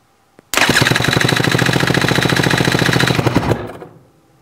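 A two-stroke engine with its throttle body completely removed bursts into a loud, close, rapid rattling run that holds steady for about three seconds before cutting off and dying away.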